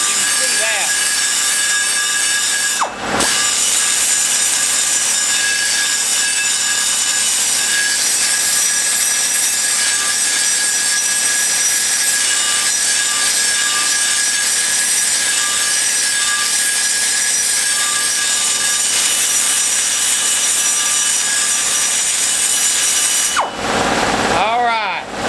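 Power tool grinding aluminum out of the bowls of a Dart Pro One BBC 325 cylinder head, a steady high-pitched whine held close and loud for most of the stretch, with short pauses near the start and end.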